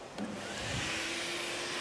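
A vacuum cleaner, connected to a steam cleaner being tested, switches on and keeps running with a steady, loud whine and airflow hiss after a brief click at the start.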